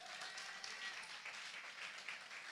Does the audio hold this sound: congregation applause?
yes